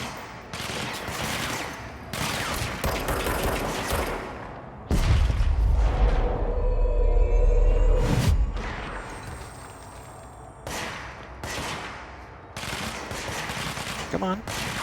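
Gunfire in the video game Control: Ultimate Edition comes in loud rapid bursts and heavy booms with pauses between volleys, while a person talks intermittently over the action.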